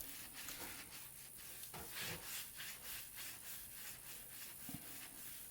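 A scrubbing pad rubs steadily back and forth over grout on a subway tile backsplash, a faint, continuous rhythmic scratching with no voices.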